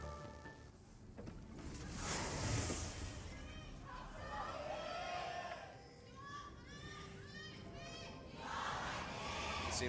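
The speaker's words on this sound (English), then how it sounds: "Seems like the ROX Tigers side of the audience has been populated now, not just the one person cheering for the squad." An esports arena audience at a League of Legends match between SK Telecom T1 and ROX Tigers cheers and roars in a dense, continuous crowd swell, with a commentator's voice running over it.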